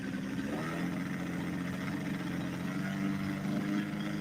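A four-stroke radio-controlled model airplane engine running steadily at a flying field, a faint, even mid-pitched drone with a throbbing exhaust note and no speech.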